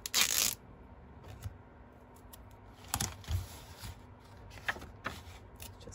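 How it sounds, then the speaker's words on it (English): Strips of pink duct tape tear and press onto art journal pages at a paint-stained art desk, with a loud rip at the start and a few quieter crinkles and taps afterward. "Keep taping these pages in."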